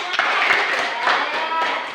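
Students in a classroom clap together in a short, fairly loud burst of rhythmic hand claps, with voices mixed in.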